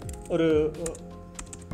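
Keys on a computer keyboard, including the Tab key, tap in a few quick light clicks, mostly at the start and end, partly masked by a person talking.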